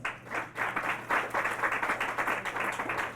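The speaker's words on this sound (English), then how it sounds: "So give yourselves a round of applause." A crowd claps steadily and warmly, a dense burst of applause that swells quickly and holds for a few seconds.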